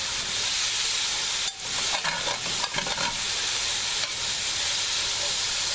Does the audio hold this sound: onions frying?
yes